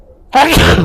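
A single loud human sneeze bursts out abruptly after a moment of near silence, close and sharp with a breathy trailing release.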